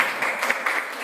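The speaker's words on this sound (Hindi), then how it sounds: "जोरदार ताली" Loud, dense applause from a church congregation at a Father's Day special service, steady clapping with a few louder bursts throughout the short moment.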